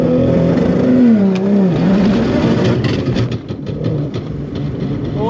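A Barra-engined Ford Mustang GT350 on fresh tyres revs loudly during a short drag-strip burnout, its engine pitch rising and falling, then tails off into rougher, choppier noise.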